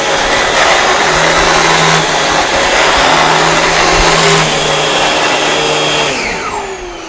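A Dyson DC17 upright vacuum cleaner with a noisy brush and a slipping belt roars loudly and steadily up close, with a droning whine that wavers and a falling pitch as it winds down at the end.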